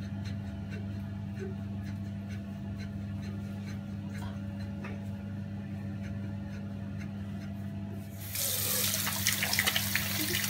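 Water runs from a tap and rinses a cleaned AK/Saiga rifle piston. A steady low hum fills most of the clip, then a loud rush of water starts near the end.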